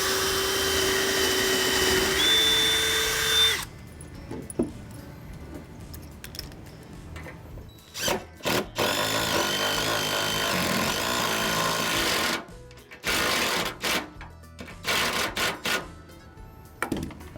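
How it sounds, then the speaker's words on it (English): Lag bolts being installed for a dock: a steady drill whir, then irregular bursts from an impact wrench with a 9/16 socket. All of it is close, with gaps of quiet between the bursts. "We've got a drill with a 3/16 bit, an impact wrench with a 9/16 socket, and our selected lag bolts here."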